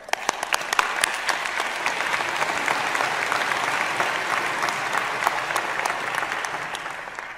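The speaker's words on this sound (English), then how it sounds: "Ryan Holmes, let's give him a round of applause." Applause from the audience at a University of British Columbia ceremony as an honoree is welcomed on stage: sustained, dense clapping with crisp individual claps near the start, holding steady for several seconds.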